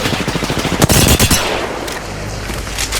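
Rapid automatic gunfire in Apex Legends, a loud, close burst of evenly spaced shots followed by a few heavier cracks, then trailing off into quieter game noise.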